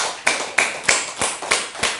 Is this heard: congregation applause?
yes